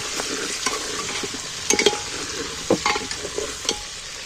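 Potato pieces with salt and turmeric fry in hot oil with a steady sizzle, while a spatula stirs them in several distinct scraping bursts, close and fairly loud, with no talk over it.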